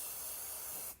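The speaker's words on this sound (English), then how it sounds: "one little bit I need to spray just there" Aerosol spray paint hisses in one steady, close burst during a mixed-media craft session, stopping abruptly just before the end.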